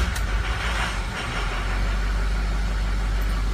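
Engine running steadily after an oil pressure switch leak check, with a deep low rumble and a faint, fast ticking from the injectors on top, close and continuous, no talking.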